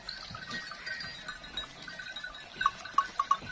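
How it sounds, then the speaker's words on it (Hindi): Sheep feeding on fodder at a Pakistani village farm, with soft scattered bleats and faint bell-like clinks. A few sharper calls come near the end over a quiet rustling background. "तकरीबन 2 किलोमीटर जी आई हुई हैं जी हमारे पास जी भेड़ें खाने के लिए"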